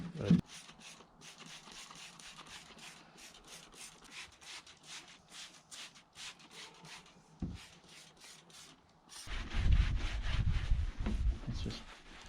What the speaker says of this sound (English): I'm trying to get up under there with my brush.